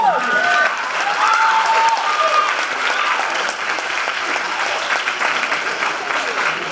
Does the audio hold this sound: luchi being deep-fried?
no